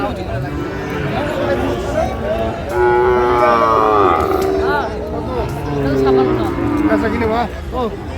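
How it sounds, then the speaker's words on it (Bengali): Sahiwal bulls at a cattle market low with long, drawn-out moos, several loud calls rising and falling close by, over a background of crowd chatter and people talking. "শাহিওয়াল দুটো সার আমরা দেখছিলাম এখানে"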